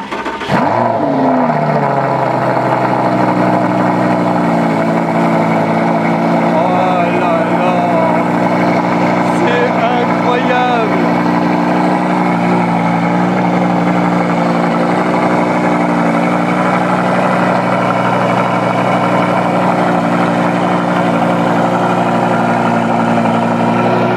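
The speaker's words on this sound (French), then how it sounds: "On va écouter ce somptueux V10." A 560 hp V10 car engine fires up from a cold start and settles into a loud, steady, rumbling idle with a faint rise in revs partway through. A voice is briefly heard under the engine.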